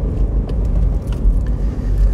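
Inside a Mini Cooper on the autobahn, a low, steady engine and road rumble dominates as the car accelerates, with no voice over the brief stretch.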